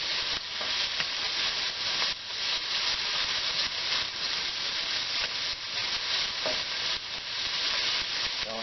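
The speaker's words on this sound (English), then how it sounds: "cook that chicken up." Chicken sizzles and hisses steadily in a wok heated by a Silverfire Hunter biomass stove, a constant loud frying sound with occasional stirring scrapes outdoors.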